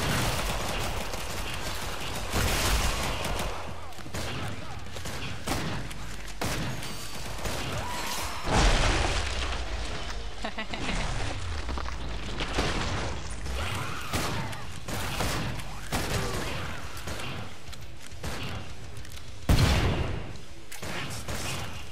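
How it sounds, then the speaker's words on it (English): Grenade blasts and gunfire in the co-op shooter Killing Floor 2, a dense run of loud booms and rapid shots with a heavy burst near the middle and another late, clattering continuously under scattered voices. "I just threw a grenade and my left ear vibrated"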